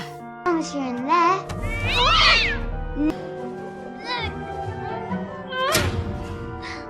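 A cat meows several times in an animated TinkerBell film, high wavering cries and a longer strained yowl, mixed with light thumps and background tones.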